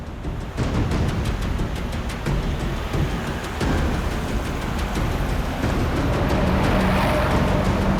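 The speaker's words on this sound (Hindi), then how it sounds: "सर इसने गाड़ी तो जगत नगर की तरफ मोड़ ली" A car speeds along during a chase toward a deserted area, its engine roaring steadily and loud throughout, with faint tyre noise and no talk.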